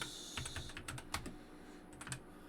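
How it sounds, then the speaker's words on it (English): Fingers typing on a loud mechanical computer keyboard, a quick irregular run of sharp close clacks in short bursts with brief pauses and no speech. "It's also kind of loud. One drawback of this mechanical keyboard."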